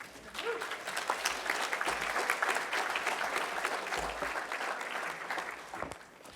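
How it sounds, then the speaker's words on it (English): An audience at a Hamilton streets talk breaks into applause for a speaker, dense clapping from a room full of people that builds fast, holds for several seconds, then tapers off. "So, a round of applause for Peter."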